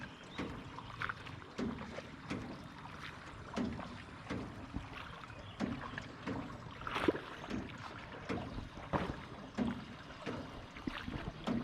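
Rowing boat gliding through the water on a Tam Coc river ride, with soft irregular splashes and paddle strokes, a faint wash of wind and distant ambience around it.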